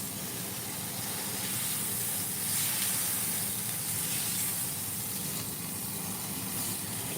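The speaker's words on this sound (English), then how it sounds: "that's a good sear that we got there" Steak sears in a hot pan for taco filling, giving a steady, broad sizzling hiss that stays constant and fairly quiet, with no talk over it.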